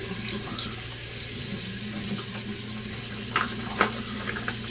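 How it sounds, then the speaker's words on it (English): Tap water runs steadily into a sink while a shaving bowl is rinsed, a close, even hiss with a couple of brief splashes near the end. "I'm gonna let that dry in as I rinse my bowl out here"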